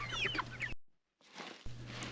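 Broiler chickens on a homestead cluck in short, chattering bursts, close and fairly loud, with a brief silent gap partway through.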